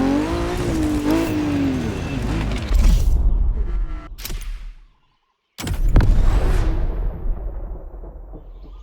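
Ferrari F40 engine in The Crew Motorfest roars and revs hard, loud and close, a rising, throaty snarl that cuts off to a brief silence before bursting back at full volume.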